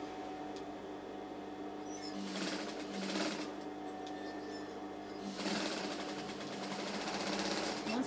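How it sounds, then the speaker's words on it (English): A sewing machine stitches around the stretchy fabric neckline of an A-line dress, its steady mechanical whir running quietly in continuous bursts. "just sew all the way around"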